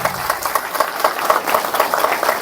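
An audience at an Mi Lifestyle leaders' event breaks into applause, a dense, even clapping from a roomful of people that holds steady and close without pause.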